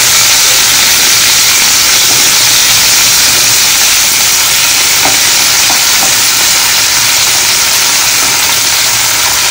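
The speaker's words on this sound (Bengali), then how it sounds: "শিম আর বেগুনগুলো খুব ভালো করে ভেজে নেব" Beans and eggplant fry in a pan with a loud, continuous close-up sizzle and hiss, and a few faint knocks partway through.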